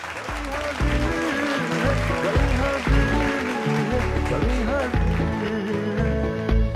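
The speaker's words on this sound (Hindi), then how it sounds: "ज़ोरदार तालियों में इस्तबाल कीजिए डॉक्टर मंसूर फरीदी" A studio audience on the DD Urdu poetry show Kavi Hazir Hai applauds as poet Dr. Mansoor Faridi is welcomed. The clapping is a steady hiss beneath loud, prominent music with a deep bass pulse and sustained tones.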